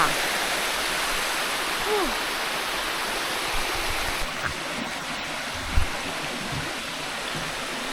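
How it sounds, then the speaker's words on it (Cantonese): Steady, broad rushing of a waterfall in Maluanshan Country Park, Shenzhen, fills the scene at moderate volume, with a few faint voices and brief knocks beneath it. "呢個瀑布睇嚟就大好多啦"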